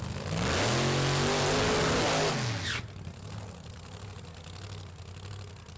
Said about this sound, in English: Alex Barker with the short burnout has the car get a little sideways.